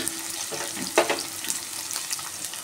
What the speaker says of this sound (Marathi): कांदा पण भाजेल तेलामध्ये आणि राय पण जिरं पण चांगलं तळून भाजून येतील